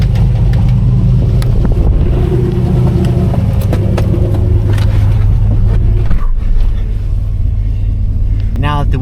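Turbocharged LS V8 engine in a car, running cold and throaty: a loud, steady, deep idle rumble with a slight lope, close by, with speech over it.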